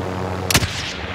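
A single sharp gunshot cracks out over a steady low background hum during a Call of Duty Warzone match, loud and close, then fades quickly.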